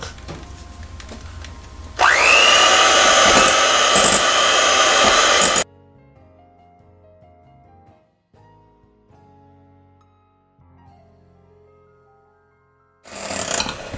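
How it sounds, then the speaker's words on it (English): An electric whisk spins up with a rising whine and runs at a steady loud buzz for a few seconds before shutting off, followed by quiet kitchen clatter and a brief burst of it starting again. "Then I'm going to use the electric whisk."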